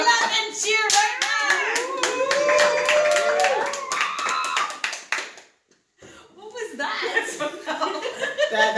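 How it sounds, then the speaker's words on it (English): An audience at a live event claps to vote, bursts of hand clapping mixed with chuckles and laughter, dropping to near silence briefly before clapping and crowd noise pick up again. "If you think Daria should win, clap Angier right now."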